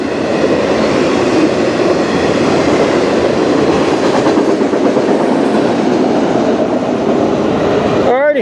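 A freight train rolls steadily past at close range, loud continuous rumble and wheel clatter filling the scene, with a brief wheel squeal right at the very end as the last car goes by.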